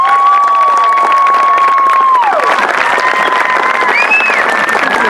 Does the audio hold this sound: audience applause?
yes